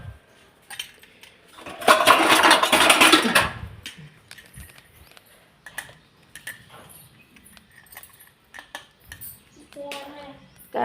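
Dishes and a pot lid clatter in a home kitchen as cooked rice is covered, with a loud burst of clinking metal early on followed by scattered lighter knocks and clinks.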